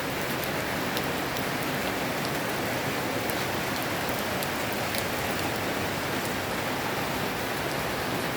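Heavy rain falling through the night during a storm in the rainy season, a dense, steady hiss with scattered sharper drop impacts, continuous and fairly close, with no talking.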